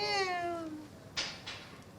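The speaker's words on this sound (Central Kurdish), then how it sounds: "پشیلە بوو" A cat gives one drawn-out meow close by, followed by a couple of faint soft noises.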